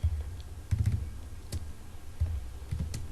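A few bursts of keystrokes on a computer keyboard, close and distinct, with short pauses between them and no voices.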